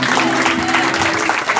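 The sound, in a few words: congregation applause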